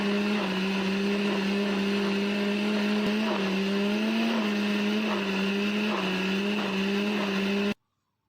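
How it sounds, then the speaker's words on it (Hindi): A kitchen blender grinds a thick milk paste for a spiced energy drink, a steady loud motor whine with slight wavering pitch running without pause before cutting off abruptly at the end. "तो चलिए अब इसको हम ग्राइंड करते हैं।"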